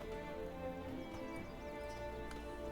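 Horse hooves clip-clop in The Witcher 3 video game, soft and faint steps under a steady musical and ambient bed, fairly distant with no talk.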